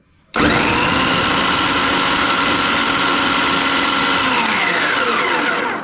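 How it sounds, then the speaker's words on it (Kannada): An electric vegetable chopper with a chopping blade fitted in a transparent jar cuts chillies, switching on abruptly into a loud, steady motor whir that holds for about five seconds with no voices. "ಚಾಪಿಂಗ್ ಬ್ಲೇಡ್ನ ಫಿಟ್ ಮಾಡಿದ್ದೀನಿ ಸೊ ಆನ್ ಮಾಡಿದ್ರೆ ಸಾಕು"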